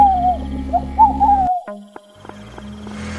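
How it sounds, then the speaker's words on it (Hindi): An owl hoots in the distance on a cold night: a series of wavering, drawn-out calls over a steady low hum, followed by a quieter stretch of soft knocks and rustles. "दूर कहीं से उल्लू की आवाज आने लगी थी।"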